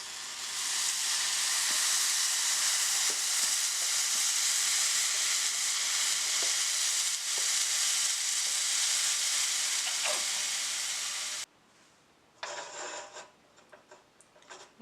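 Barbecue sauce stirred into a hot pan, a loud dense steady hiss with faint scraping underneath, then the hiss stops abruptly, leaving a few quieter clatters and scrapes.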